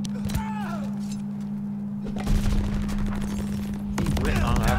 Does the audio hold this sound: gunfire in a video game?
yes